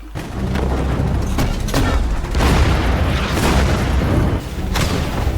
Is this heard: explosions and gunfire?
yes